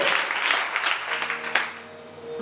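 A church congregation claps and applauds in sustained, dense applause throughout, loud and close.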